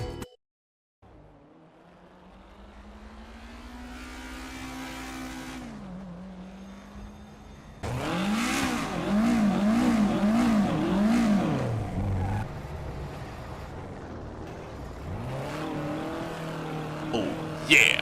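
A 1986 Toyota MR2 racing in Gran Turismo 4: engine tone climbing through gears, then a louder stretch of revving with wavering pitch and tire noise as the car races, fairly close and continuous.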